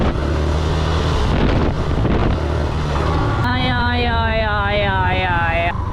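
A motorcycle revs and accelerates through the gears during wheelie practice, with engine noise under heavy wind buffeting on the microphone and a rising, wavering engine pitch in the second half.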